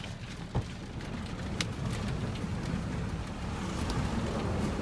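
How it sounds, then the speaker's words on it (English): Heavy, steady wind of about 40 mph roars against the microphone at a racetrack, with constant buffeting and rushing noise, a few sharp knocks, and no talking. "Oh my god, it's so windy."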